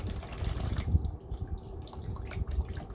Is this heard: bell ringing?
no